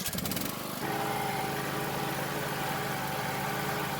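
Riding lawn mower engine cranking on a weak battery, a brief sputtering crank at first, then a steady, fairly quiet mechanical drone with a faint whine, with no talk.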